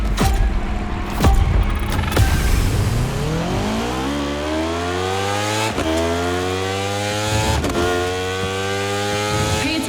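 A racing motorcycle in The Crew Motorfest revs up hard, its engine pitch climbing steadily through gear changes, loud and close with a few sharp clicks and no voices.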